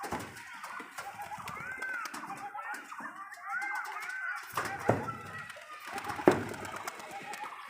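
Young pigeons at a pigeon loft give soft, repeated cooing calls amid rustling and a few sharp clicks, with someone talking at times over the birds.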